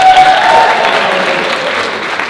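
Wedding guests clap together in a sustained, dense burst of applause at a reception during the best man's speech, steady and fairly loud with no talking over it.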